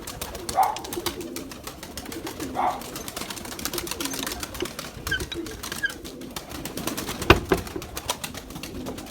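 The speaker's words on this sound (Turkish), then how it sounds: "Göreceğiz şimdi diğer kuşları." Pigeons coo in short soft calls scattered over several seconds against a windy, rustling outdoor background, with a brief flutter or clatter near the end.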